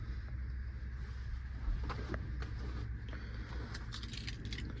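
Keys to a 2023 Daihatsu Hijet S510P scissor-dump mini truck jingle faintly under a steady low rumble, with a brighter cluster of metallic jangles near the end.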